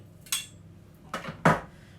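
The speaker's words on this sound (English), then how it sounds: "We're going to give that a gentle whisk together." A whisk clatters against a bowl while mixing a marinade for lamb kleftiko, giving three short, sharp metallic scrapes and clinks spaced across a quiet moment.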